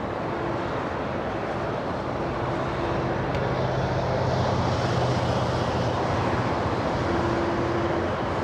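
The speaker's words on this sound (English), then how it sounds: "the heavy Airbus taking a parallel runway for departure" A heavy Airbus jet rolls for departure on an LAX parallel runway, a broad, steady rumble of engine noise holding at moderate volume with a faint hum, heard from a distance without voices.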